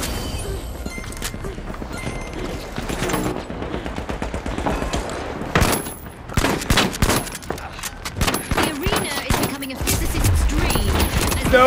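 Rapid bursts of automatic gunfire and scattered single shots crackle through a firefight in the video game The Finals, loud and dense, with a voice speaking over the action.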